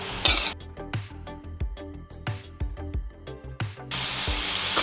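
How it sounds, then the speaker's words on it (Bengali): Spices sautéing in a hot pan while a spoon stirs them, each scrape and clack against the metal ringing out in an uneven rhythm over a soft sizzle, with louder frying bursts at the start and end. "এবার নাড়াচাড়া করে নিতে হবে। কষিয়ে নিতে হবে,"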